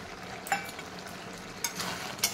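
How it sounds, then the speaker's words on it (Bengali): Coconut curry with potato and taro being stirred in a pan: a soft, steady low sizzle with a few sharp spoon scrapes against the pan, alone and without voices. "একটু ভালো করে নাড়াচাড়া করে দেখতে হবে যে আলু কচু সব ভালো করে সিদ্ধ হয়েছে কিনা"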